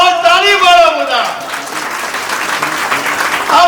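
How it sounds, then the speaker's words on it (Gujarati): Audience applause at a school farewell ceremony honouring a teacher at a primary school in Chandrumana. Dense, steady clapping from a crowd fills the clip, with a speaking voice over the start and again near the end. "તાળી વાળા બધા"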